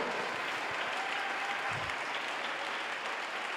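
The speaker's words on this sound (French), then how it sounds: "Acclamons le Seigneur pour la guérison." Church congregation applauding during a service, a steady broadband wash of clapping that holds evenly throughout, fairly distant and diffuse with no voices standing out.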